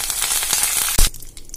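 Urad dal, mustard seeds, cumin and curry leaves frying in a hot kadai for mint chutney, a loud close crackle and spatter with one sharp burst near the end before it quiets.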